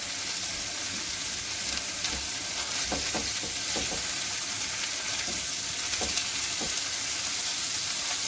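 Bacon frying in butter on a skillet, with a constant close sizzle and scattered utensil taps and scrapes as it is moved about; no talking.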